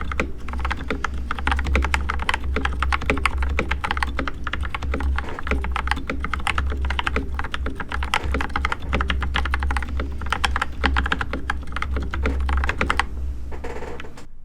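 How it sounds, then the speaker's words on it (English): Fast, continuous typing on a modded Redragon K582 mechanical keyboard during a typing test, dense rapid key clacks close to the microphone with a low steady hum beneath, no talking. "So this is going to be a sound test from Monkey Type, and this is the 25-word mode."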